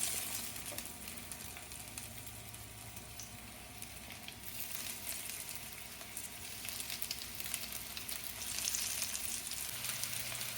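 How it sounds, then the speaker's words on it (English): Spanish mackerel frying in hot oil, a steady, moderately quiet sizzle with a soft crackling patter that holds evenly throughout, no voices over it. "Well, we're ready to fry the mackerel."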